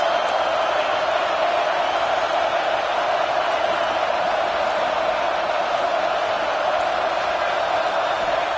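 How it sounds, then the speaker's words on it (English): A packed stadium crowd at a Nebraska college football game roars in a sustained, loud wall of cheering and noise behind the defense, steady from start to finish. "Listen to this crowd just shaking the girders of this place trying to help their defense."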